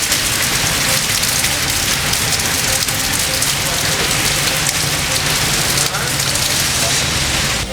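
Heavy monsoon rain pours down in Karachi, a dense, loud, unbroken roar of water hitting surfaces that stays constant throughout with no pauses.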